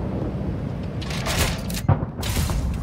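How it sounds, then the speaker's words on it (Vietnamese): A tank shell misses its target and explodes in the Project CW tank combat game, a loud boom with crackling debris bursting around the two-second mark over a steady rumbling battlefield background. "Một phát đạn không trúng, gây nổ ngoài"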